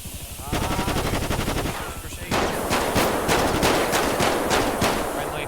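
Rapid full-auto gunfire in a video game police raid on an aircraft carrier, loud sustained bursts that sound close by, with excited players talking over the shooting.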